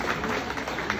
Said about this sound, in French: Je les appelle, s'il vous plaît, au cri de vos applaudissements, ces étudiants en cosmétologie.